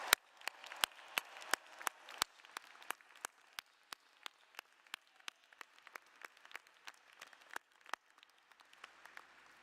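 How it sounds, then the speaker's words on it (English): Graduates at a college commencement clap, though only sparse, distinct individual claps ring out, quite faint and spaced irregularly rather than a full crowd roar. "Class of 2022, give yourselves a round of applause for a job well done."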